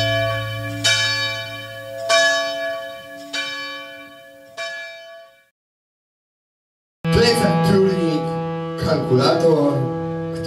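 Church bells ring loudly with resonant, decaying strikes in a slow rhythm, pause into silence, then return with denser overlapping peals.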